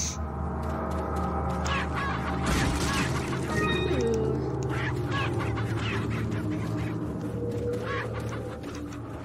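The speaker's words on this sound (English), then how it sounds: "Chicken." Chicken in the video game Resident Evil 4 clucking and squawking repeatedly in irregular bursts, fairly close and loud over a busy game soundscape.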